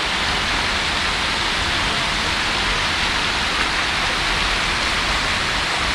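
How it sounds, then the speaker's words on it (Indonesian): Fast, fairly strong river current close to Curug Bangkong waterfall in Kuningan, West Java, roaring as a steady, loud, unbroken wash of broadband water noise for the whole stretch, with no talking. "ini arus yang sudah dekat dengan curugnya. Ini agak deras"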